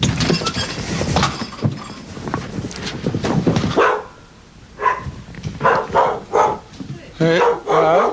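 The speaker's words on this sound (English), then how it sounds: "the problem here is the dog starts barking usually" A dog barks in short bursts close by, mixed in with people talking and moving about as a door opens.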